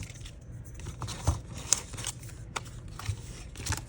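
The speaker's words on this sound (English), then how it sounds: "I think I'm going to tear off part of the envelope." A paper envelope is torn, giving off close, scratchy ripping and crinkling bursts with a few sharper snaps, all moderately quiet.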